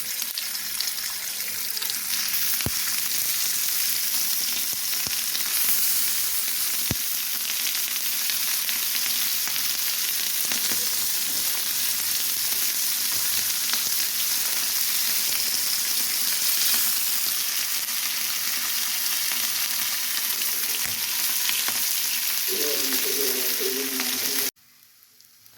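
Fish frying on a bed of curry leaves in a pan gives a steady, loud sizzle that runs unbroken and close for about 24 seconds, then cuts off abruptly near the end.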